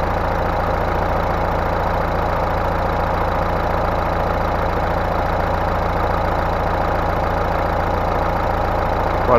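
A car engine is held at a steady 2500 rpm during a battery test with the headlights on, giving a loud, even, continuous drone that stays unchanged throughout.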